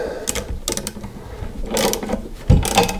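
Nuts being tightened on a steering head bearing puller while replacing the steering head bearings of a 1983 BMW R100RS motorcycle, heard as close, loud bursts of ratcheting clicks in quick runs with short pauses between them.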